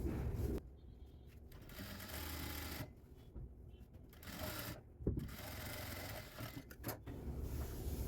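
A sewing machine runs an edge seam on a semi-Patiala pant, short bursts of rapid mechanical stitching broken by brief pauses, fairly faint and close with no one talking.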